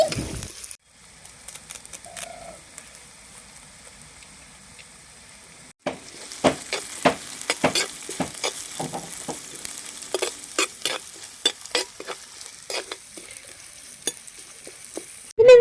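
Chopped small red onions fry in a clay pot over an outdoor wood fire, with steady sizzling and frequent sharp scraping and stirring clatters, close and moderately loud.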